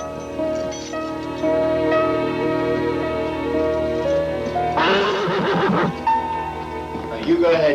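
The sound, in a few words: horse neighing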